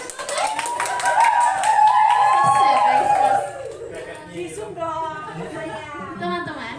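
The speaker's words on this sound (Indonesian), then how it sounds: "Tepuk tangan yang meriah untuk yang paling pertama." A group in an Indonesian school counselling session claps in a short burst while voices sing out a sustained tone over it. Talk and chatter continue after the clapping fades.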